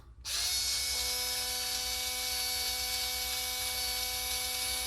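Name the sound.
Racer's Edge electric drill removing beadlock wheel screws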